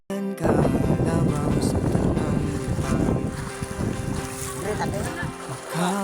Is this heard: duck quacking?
no